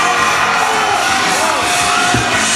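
An audience cheers and shouts continuously in a crowd scene from a played clip, a dense, loud wash of whoops and yells with no pauses.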